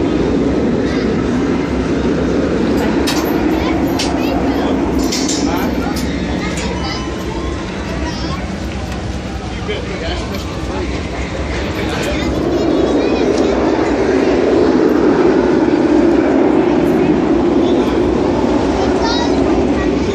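An amusement chu chu train ride rolling on its rails, a steady loud rumble with faint clickety-clack and occasional squeal, carrying on for the whole stretch under continuous background voices.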